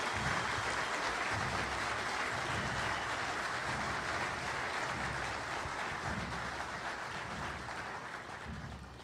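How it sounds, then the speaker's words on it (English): A large audience at an IPPFA opening ceremony gives a sustained, dense round of applause that holds steady for several seconds and then gradually fades. "Let's give them a nice round of applause"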